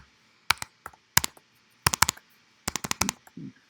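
Keys clatter on a Mac computer keyboard in irregular clusters of quick, sharp taps, close up with brief pauses between bursts and no voices.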